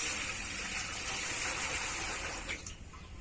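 Water pours into a large pot for a biryani of three kilos of rice, a steady close gushing stream that tapers off near the end.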